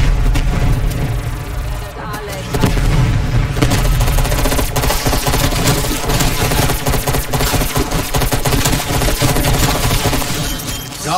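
Rapid bursts of gunfire in the Call of Duty Black Ops Cold War Zombies mode rattle continuously with booms and impacts, loud and dense, with voices talking over the action.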